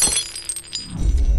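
A ceramic mug smashing, a sharp crash with brief clinking fragments, followed by a low rumble as it settles.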